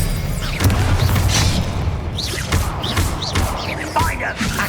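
Spell combat in the PS5 Pro version of Hogwarts Legacy, with a loud, dense run of magical bursts, booms and whooshing sweeps that repeat over a continuous rumbling game soundscape.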